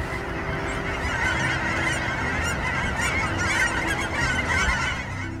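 A large flock of cackling geese arriving at dawn on an Oregon goose hunt, honking and cackling in a dense, continuous chorus that stays loud and close throughout, with no voices.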